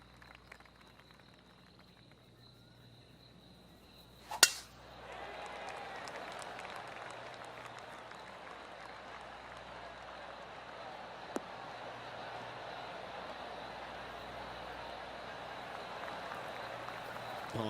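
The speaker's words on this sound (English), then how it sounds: "Oh, golf clap." Polite golf-style applause from a gallery in the PGA TOUR 2K23 video game, a soft steady patter of scattered clapping that builds after a sharp click and continues evenly throughout.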